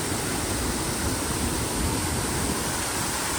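Heavy water flow pours over a village waterfall, a constant, close, loud roar of rushing water with no voices or other sounds.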